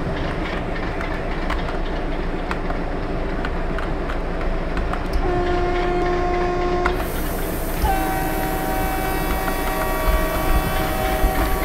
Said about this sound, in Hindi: चलो ट्रेन तो आगे जा रहा है, वी आर मूविंग फॉरवर्ड।